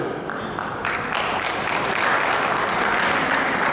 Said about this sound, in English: So very, very round of applause, friends.